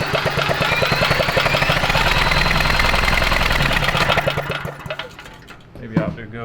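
A 5HP Briggs and Stratton generator engine, abandoned and being tested for spark, is spun over by hand, giving a close, rapid chugging rattle for several seconds that slows and fades, with faint handling noises after.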